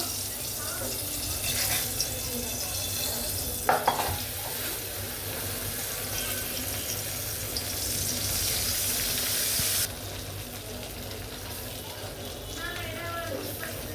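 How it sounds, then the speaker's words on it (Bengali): Onions sizzle steadily in hot oil left from frying rohu fish, with occasional clinks of a utensil, the hiss easing partway through; no talking. "আমি মাছের তেল দিয়ে পেঁয়াজ ভাজবো।"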